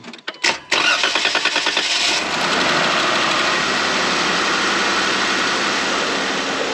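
A truck engine cranks with a quick series of rhythmic turns, catches and settles into a loud, steady rumbling idle close by.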